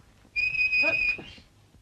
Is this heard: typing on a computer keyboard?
no